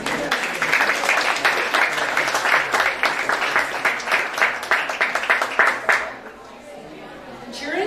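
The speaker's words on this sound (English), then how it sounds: "please give yourself a round of applause" An audience at an Art and Soul 2019 speeches and performances event applauds loudly and steadily for about six seconds, with crowd chatter mixed in. The applause then drops off to quiet room noise.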